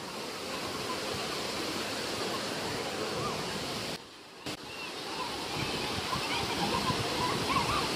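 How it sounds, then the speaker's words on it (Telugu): Kothapalli waterfalls near Paderu, Vizag, a dense, steady roar of falling water that fills the whole clip, broken by one brief dip in the middle. "అది కొత్తపల్లి వాటర్ ఫాల్స్."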